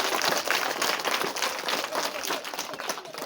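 Dense, continuous applause from a large crowd at a school ceremony honouring students who passed national exams in Nyarusiza, loud and sustained throughout with a steady wash of many hands clapping.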